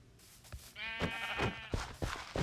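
A sheep bleats once in Minecraft Bedrock, a wavering, nasal cry lasting about a second, surrounded by soft clicks and thuds from gameplay and no talking.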